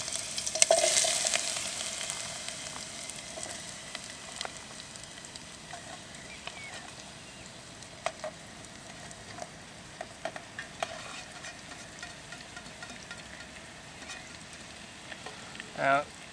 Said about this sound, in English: Now it looks like it's ready to accept some food. Nice sizzling.